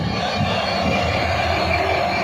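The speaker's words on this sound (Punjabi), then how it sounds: "ਇੱਕ ਟ੍ਰੇਨ ਆ ਖੜੀ ਹੈ ਜੀ" Steady low rumble and broad hiss of the Bathinda–Ferozepur train idling at Faridkot railway station, continuous and fairly loud with no voices.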